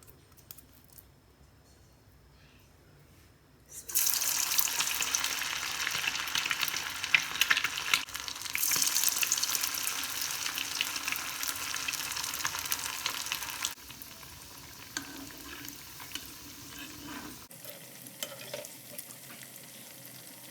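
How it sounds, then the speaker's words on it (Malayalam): Bread and egg snack pieces drop one by one into hot oil in a pan and set off a sudden loud, bubbling sizzle. The crackle stays strong for several seconds and then settles to a softer, steady frying hiss, with no voices. "ഇനിയിപ്പോൾ ഫ്രൈ ചെയ്തെടുക്കാനുള്ളൂ കേട്ടോ"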